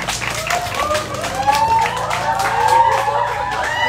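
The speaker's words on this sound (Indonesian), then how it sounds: "Tepuk tangan dulu dong" An audience at an evening book event applauds and cheers, scattered clapping and excited voices mixing in a lively, moderately loud burst.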